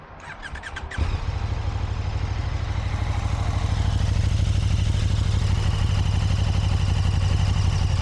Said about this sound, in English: Yet you do have that little whine coming from the engine.